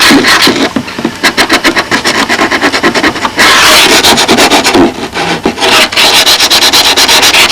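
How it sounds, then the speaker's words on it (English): Close, loud sanding of the edges of a balsa model B-25 bomber nacelle with a rolled-up piece of sandpaper, heard as rapid rhythmic rasping strokes in dense bursts with brief pauses between them, and no talking. "A good roll-up piece of sandpaper is a good way to..."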